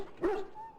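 A wounded dog in the fantasy role-playing game Dragon Age: Origins gives a single short bark or yelp, fairly quiet, followed by a faint whining tone.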